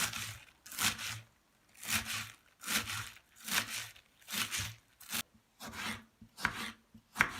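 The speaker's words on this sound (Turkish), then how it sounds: "Yeşil soğanımızı da ince ince kıyalım." A knife cuts green onions in rapid, raspy bursts against a board, a steady rhythm of short crunchy chopping runs broken by brief gaps.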